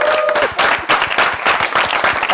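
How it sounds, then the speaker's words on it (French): An audience at a Gabonese broadcast interview segment about a youth space bursts into loud, sustained applause, dense clapping filling the whole stretch with slight swells. "On applaudit très fort"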